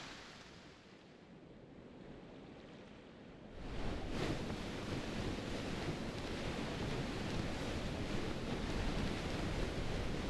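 Storm winds and crashing waves at sea in a video game, a broad steady roar of wind and surf that swells sharply after a quieter opening and stays loud and continuous, no voices.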